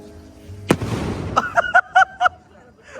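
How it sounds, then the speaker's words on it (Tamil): Firecrackers burst at a birthday celebration: one sharp loud bang is followed by a hissing burst and then a rapid series of four or five crackling pops. The pops are close and loud. "ரொம்ப லேட் லேட்டா வெடிக்குதுடா அவர் வெடி சூப்பர்"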